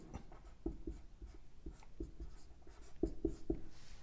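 Chalk or pen strokes on a board during a chemistry lecture on NMR spectra, a rhythm of short taps and scratches about every quarter second, close and moderately loud with no talk.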